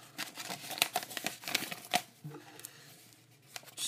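Scissors snipping open a Pokémon trading card pack, heard as a run of sharp, close crinkling and cutting bursts of plastic wrapper over about three seconds, with no talking.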